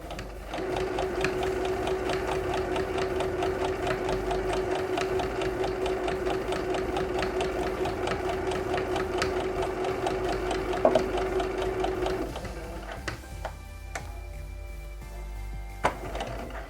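Sewing machine stitching fabric for a drawstring almond bag with ears, running at a steady, continuous hum for about twelve seconds, then stopping and giving way to a few scattered clicks and light handling taps.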